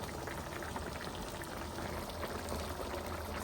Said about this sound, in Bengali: এখন কিছুক্ষণ অপেক্ষা করি, টমেটোগুলো একটু সিদ্ধ হয়ে আসুক, ঝোলটাও আর একটু শুকাক